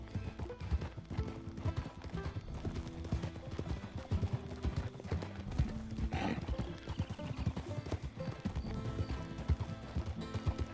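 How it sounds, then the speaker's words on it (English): Donkey hooves clip-clop steadily on the ground in the video game Red Dead Redemption 2, an even walking rhythm that runs throughout, fairly close, with faint animal calls now and then. "It's just a donkey"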